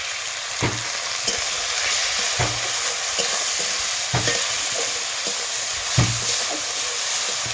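Garlic paste, onion and tomatoes sizzle steadily in a pan, punctuated by regular spatula strokes and scrapes, close and fairly loud with no talking.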